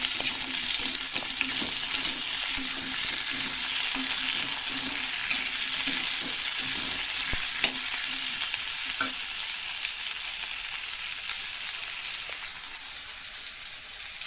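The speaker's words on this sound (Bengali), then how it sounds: "এখন দিয়ে দিচ্ছি পটল আর আলু দিয়ে সুন্দর করে এটা ফ্রাই করে নেবো" Pointed gourd and potato frying with onion in a pan, a dense, steady sizzle with occasional stirring scrapes, close up and without talk.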